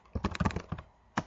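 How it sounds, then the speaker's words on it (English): A short burst of keystrokes on a computer keyboard, about eight quick clicky taps in an uneven rhythm, then a brief pause and one final firmer key press, close and fairly quiet. "you type in the command"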